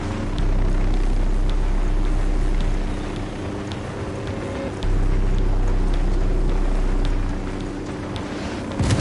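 A helicopter in Ghost Recon Wildlands gives a steady, loud, low rotor-and-engine drone that swells and recedes over several seconds, with no talking.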